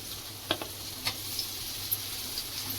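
Carrot, beans, capsicum, peas and tomato sauté in a pan for vegetable noodles, a steady faint sizzle with a few sharp spoon clinks against the pan.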